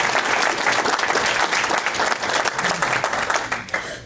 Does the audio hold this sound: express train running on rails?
no